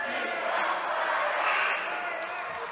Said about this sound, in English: There's both cheer sections here as well.